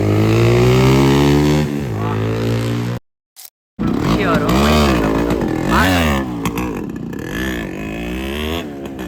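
A Yamaha RX100 two-stroke motorcycle revs and pulls away, its buzzing engine rising and falling through gear changes, loud and close at first and then continuing under a voice.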